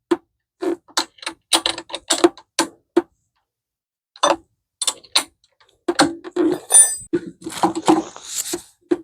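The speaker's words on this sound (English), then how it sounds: "If I can get the wrench on it properly." A wrench tightens a nut on a Cub Cadet self-drive mower, giving a run of sharp metallic clicks in irregular bursts, close and fairly loud, with short pauses and a busier clatter near the end.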